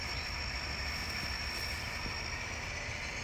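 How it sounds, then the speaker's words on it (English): A southbound Norfolk Southern freight train passes near a farm crossing, a steady broad rumble with constant high-pitched wheel and rail noise, continuous and fairly distant, no voices. "we've got a southbound Norfolk Southern train"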